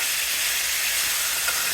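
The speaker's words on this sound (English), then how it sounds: "we're just getting that nice sear going to get the flavors developed" Pork chops searing in a hot pan for oven-baked BBQ pork chops, a steady loud broadband sizzle and hiss with no pauses, close by and alone.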